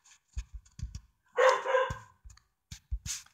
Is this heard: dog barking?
yes